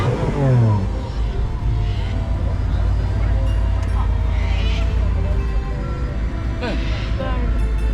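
An Italian car drives past and revs at a car show in Queanbeyan, its engine rumbling loud and close under steady crowd noise, with people talking throughout.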